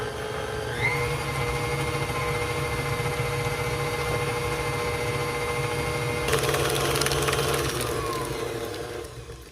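Electric mixer beating gingerbread cookie dough in a bowl, a steady continuous motor whir with a brief louder scraping stretch near the end, no talking.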